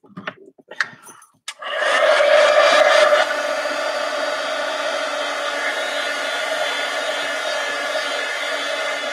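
A hair dryer switches on after a few clatters and runs as a steady, loud whirring blow, drying Distress Oxide ink on a craft surface.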